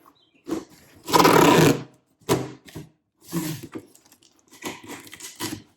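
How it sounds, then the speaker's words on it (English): Packing tape pulled off a roll and pressed down to seal a cardboard box holding a coated screen, a long loud ripping strip followed by several shorter tearing and crinkling bursts, close by with no talking. "Put a little bit of tape on here."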